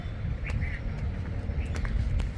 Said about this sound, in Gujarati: અહીંયા તમે સાંભળી શકો છો, એટલો સ્વીટ સાઉન્ડ આવે છે પક્ષીઓનો